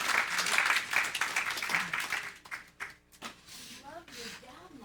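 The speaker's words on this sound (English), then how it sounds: "Let's give her another round of applause." An audience applauds after a meditation session, dense clapping at first that thins out and fades over a few seconds, with voices talking over the tail end.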